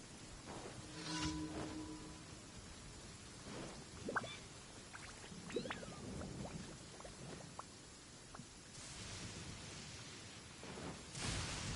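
Steady rain falls through a quiet outdoor scene, a soft continuous hiss with a few faint crackles and a low rumble, and no one talks.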